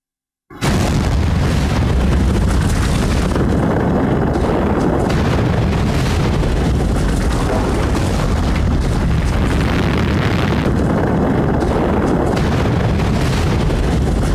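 The Toba supervolcano eruption in Sumatra: a massive, sustained explosive roar that starts abruptly and keeps rumbling and crackling, very loud and dense throughout.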